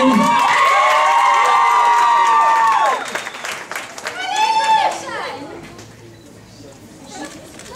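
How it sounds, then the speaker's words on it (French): A pageant crowd claps and cheers loudly for the fourth candidate at Miss Saint Denis 2014, with shouting voices rising over the applause before it thins out into a quieter hall. "Quatrième candidate, sous vos applaudissements"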